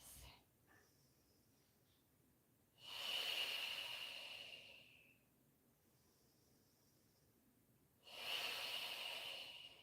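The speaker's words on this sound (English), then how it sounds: "Let's take a few deep breaths." Slow, deep breathing during a mat Pilates relaxation, lying with the forehead on the floor, heard close and quiet as two long airy breaths separated by a pause.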